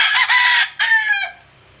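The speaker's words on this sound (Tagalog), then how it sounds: "Yung manok natin, yun." A rooster crows once, loud and close, a strained two-part call that breaks off abruptly and leaves near silence behind it.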